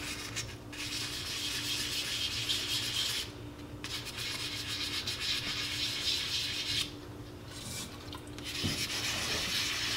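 Polymer clay jewelry is sanded by hand in circular motions, a close, steady rasping scrub in long repeated strokes broken by a few short pauses.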